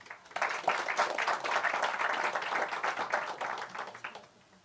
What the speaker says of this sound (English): please give a warm round of applause to Mr.